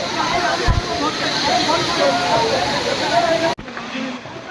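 A hill-stream waterfall at Khoiyachara in Sitakunda pours steadily as broad, continuous rushing water with hissing spray, heard close with a brief knock and a dip near the end.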